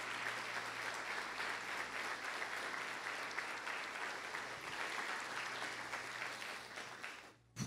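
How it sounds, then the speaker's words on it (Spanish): Church congregation applauding in a sustained, dense round of clapping that fills the sanctuary at steady volume for several seconds before cutting off abruptly. "Denle un aplauso al Señor."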